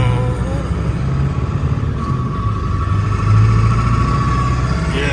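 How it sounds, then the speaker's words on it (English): A truck engine runs at a low, steady rumble from inside the vehicle, continuous and fairly loud with a faint whine on top, and a voice speaks over it. "Truck noises."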